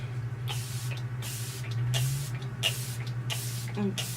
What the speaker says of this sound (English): So now I'm just going to set my face with some setting spray.